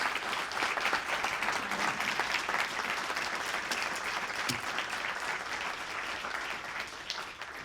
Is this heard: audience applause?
yes